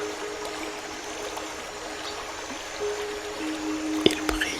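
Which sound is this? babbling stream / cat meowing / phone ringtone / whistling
babbling stream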